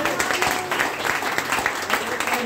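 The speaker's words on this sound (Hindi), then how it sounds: "उनके लिए जोरदार ताली लगाइए।" Applause from a seminar audience welcoming a guest on stage, a dense, steady patter of many hands clapping close by for the whole stretch, with a voice mixed in.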